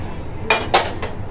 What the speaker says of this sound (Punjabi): ਹੁਣ ਅਸੀਂ ਰੱਖ ਦਿੱਤਾ ਹੈ ਜੀ ਇਹਦੇ ਉੱਪਰ ਫਰਾਈ ਬੀਨ